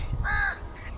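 A crow perched on a rooftop gives a single loud, harsh caw close by, over low background rumble.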